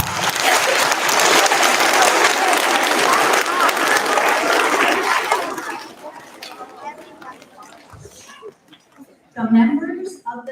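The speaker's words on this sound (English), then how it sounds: "So I'm giving you a round of applause." A school assembly audience breaks into loud, dense applause for several seconds, then it fades into scattered chatter and a speaking voice.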